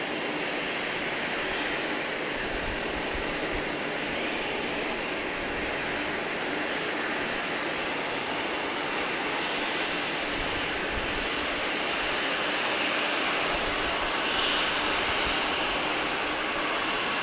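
A Boeing 777 airliner arriving from London via Kingston, Jamaica, rumbles as a broad, steady engine roar that holds at a constant loud level throughout, with no voices over it.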